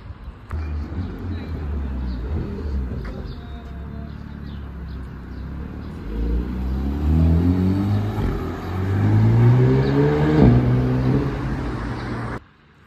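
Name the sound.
yellow sports car engine revving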